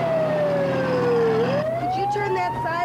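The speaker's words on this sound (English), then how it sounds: "Could you turn that siren off?" An emergency vehicle siren wails loud and close, its pitch sliding down and then rising again in a continuous sweep over a steady engine rumble, with faint voices underneath.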